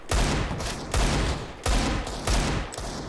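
Bursts of gunfire in a Counter-Strike wingman match, four loud volleys in quick succession, each a dense rattle of shots with brief gaps between, heard alone without talk.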